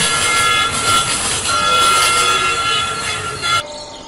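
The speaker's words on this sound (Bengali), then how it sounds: "হুইসেল বাজিয়ে ট্রেন স্টেশনে এসে দাঁড়াল" In a cartoon sound effect, a train pulls into a station with a loud, continuous rumble of wheels and a long, sustained whistle held throughout. Both cut off abruptly near the end.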